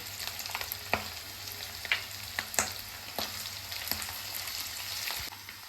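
Potatoes and peanuts fry steadily in a pan, a continuous close sizzle with soft occasional clicks and stirring knocks as they are moved around, no voices present.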